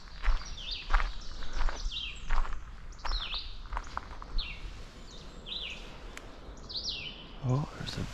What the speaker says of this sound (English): Oh, there's a brown creeper.